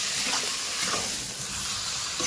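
Boiled vegetables sizzle and hiss steadily as they are stirred together in a hot frying pan for a fish-head chochchori, close and unbroken, with no voices.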